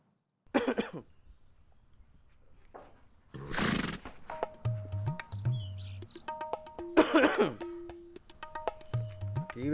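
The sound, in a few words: dry tickly cough to attract attention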